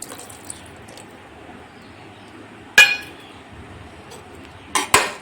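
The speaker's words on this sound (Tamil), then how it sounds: "எல்லாவற்றையும் நல்லா மிக்ஸ் பண்ணிக்கலாம்." A pot of chickpea rice pulao with lemon juice is stirred, with quiet scraping followed by a sharp metallic clink and then a couple of closely spaced clanks near the end.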